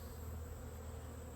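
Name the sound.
honey bees flying around the hives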